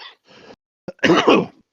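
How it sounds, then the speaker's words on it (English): A short, sharp cough bursts out as a Hobnob biscuit goes down the wrong way, followed by a heavier spluttering cough fit and throat clearing, close and loud. "That's the sound of the hobnob going down the wrong way."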